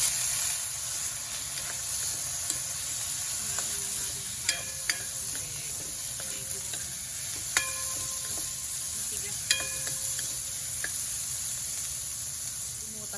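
Vegetables sautéing in oil for pancit, a steady frying hiss running throughout with occasional light clinks and scrapes of a utensil, moderately quiet and close.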